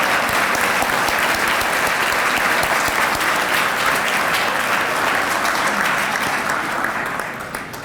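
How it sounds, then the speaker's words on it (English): A crowd at the Ruby McKnight Williams Awards gives Ms. Williams a warm round of applause, loud continuous clapping from many hands that tapers off slightly at the end. "Please give her a wonderful round of applause."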